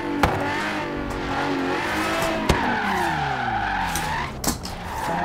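Tyres squeal and skid as a Regalia build in Forza Horizon 3 spins through 360s, with the engine revving and whining throughout, loud and close, and a few sharp knocks along the way.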